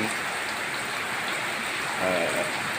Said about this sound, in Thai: ฝนตกตั้งแต่เช้าเลยนะครับ